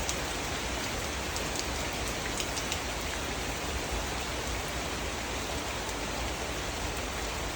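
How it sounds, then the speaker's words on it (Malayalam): Sudden rain falls steadily and close by, a dense, even hiss of drops on surfaces with faint individual drips, continuous with no talk. "പെട്ടെന്നാ മഴ വന്നോ."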